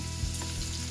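Finely chopped ingredients for a chicken gizzard dish sizzle in a little hot oil in a heated pan, a brief, close, steady frying hiss with a faint stir.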